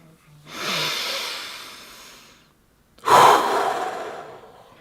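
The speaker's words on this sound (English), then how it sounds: "Inhale deeply into your lower belly, then exhale." Deep breathing: a long, slow breath that fades out, a brief silence, then a sharper, louder rush of air, both close and breathy with no talking.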